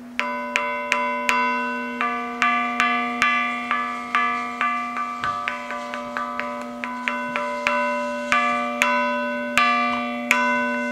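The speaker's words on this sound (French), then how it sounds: "selon l'endroit où la cloche est frappée, on peut entendre des sons différents" A single carillon bell of the Bollée carillon in Châtellerault is struck again and again at different points, giving a steady run of clear ringing tones with long sustain, close and distinct.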